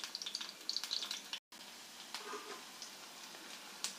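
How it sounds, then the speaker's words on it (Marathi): Onion with garlic dropped into hot oil for a wild kuda flower vegetable dish, a crackling sizzle with sharp spits in the first second, then a brief dropout and a quieter, steady fry. "तेल गरम झाल्यानंतर आता यात कांदा टाकलेला"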